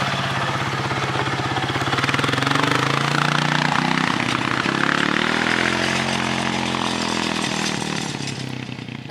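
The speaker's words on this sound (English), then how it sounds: "oh, there's a vehicle coming" A motor vehicle passes on a mountain trail, its engine buzzing loud and near as the pitch climbs and shifts, then eases off as it moves away. No one speaks.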